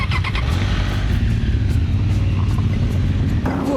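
A 2018 Triumph Tiger XCA motorcycle rides off-road over rocks, its engine a loud steady rumble with constant drone and clatter throughout, close up and with no speech.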